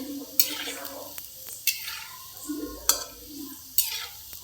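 Koftas deep-frying in oil over medium flame, a soft bubbling sizzle broken by four sharp spoon or ladle clinks as they are turned, close by and without speech.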